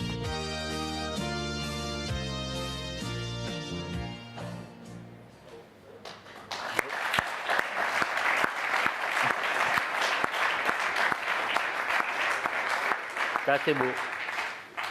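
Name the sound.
audience applauding Jean Le Cam's arrival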